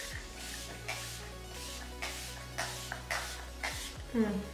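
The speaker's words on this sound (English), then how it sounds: "So setting spray, I'm just going to set my face." Several quick hissing sprays from a face setting spray mist bottle, evenly spaced, each a short airy burst close by, over a low steady background hum.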